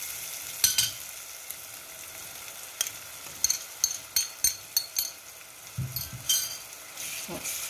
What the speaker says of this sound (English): I'll let it fry together.